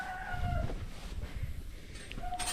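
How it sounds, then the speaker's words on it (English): A backyard chicken clucks and crows during deer feeding, with a few short, fairly near calls standing out over low outdoor rumble and no talk. "Look at that chicken."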